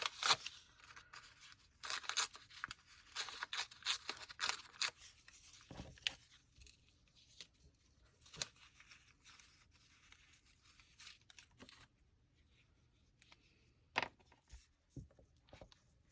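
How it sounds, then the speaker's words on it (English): Backing paper is peeled off in a series of quiet tearing and crackling strips, with irregular bursts of scraping and rustling and brief pauses between pulls. "let's unback this with some other wacky paper"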